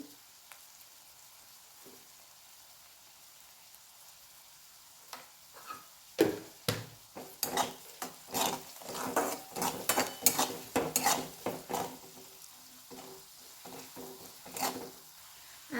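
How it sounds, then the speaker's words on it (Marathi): Onions with salt sautéing in a pan for pav bhaji, a quiet start giving way to bursts of sizzling and spatula scrapes and taps from about six seconds on, close and alone. "कांदा लवकर परतण्यासाठी त्यात आपण मीठ टाकून घेऊ"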